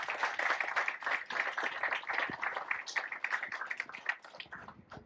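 A crowd at a press conference in Rosenberg, Texas gives a round of applause for the city, steady dense clapping that holds for several seconds at moderate distance.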